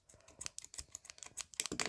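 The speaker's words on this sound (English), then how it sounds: "So I'm going to snip off the wick." Scissors snipping a candle wick on a homemade scented candle, a quick series of small dry clicks and cuts close by, irregular and fairly soft with no talking.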